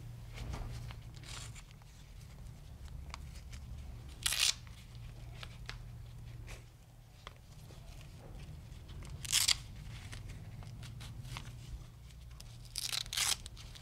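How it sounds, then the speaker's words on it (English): Hook-and-loop straps of a Breg knee brace are pulled open in three quick, crisp ripping bursts spaced several seconds apart, close and fairly soft over a low background hum. "To remove the brace, unfasten all the straps"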